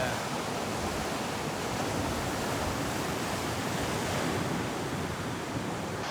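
Ocean surf at Cox Bay near Tofino, a continuous loud wash of breaking waves mixed with wind buffeting the microphone.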